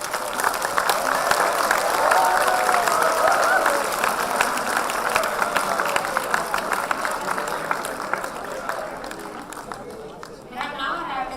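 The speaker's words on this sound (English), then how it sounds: "that's why the students of this college are cheering" Law college students at a competition results event, steady applause and cheering from a large crowd filling the room for about ten seconds, dense and even, slowly thinning toward the end.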